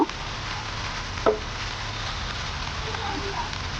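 A spiced banana-flower mixture with a little rice flour sizzles steadily in a frying pan, with occasional scrapes and knocks as it is stirred.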